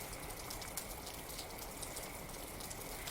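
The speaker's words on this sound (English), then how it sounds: "And rain. Of course there was rain." Steady rain falling and pattering on surfaces, a soft continuous hiss from a visual novel game's sound effect, heard alone without speech.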